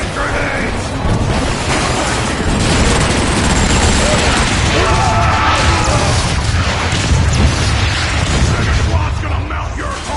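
Loud, dense battle noise from the video game Transformers: Fall of Cybertron, with grenade explosions and heavy gunfire booming continuously throughout.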